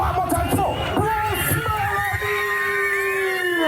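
A concert crowd cheers and screams for the singer at a stage show, a loud, continuous roar of excited voices with high shouted calls rising above the babble.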